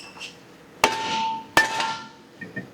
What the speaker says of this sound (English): I hope you saw how easy that came off with the dead blow hammer